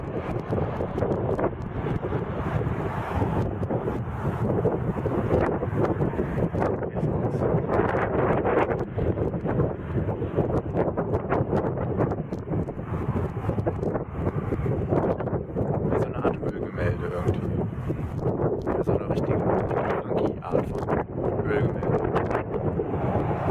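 Strong wind on a mountain at sunset buffets the microphone in a constant, roaring rush that gusts without pause, with voices faint beneath it.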